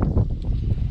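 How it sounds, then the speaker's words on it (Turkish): Strong wind roars and buffets the microphone in a steady, loud low rumble with gusty surges throughout. "Bu arada acayip bir rüzgar çıktı."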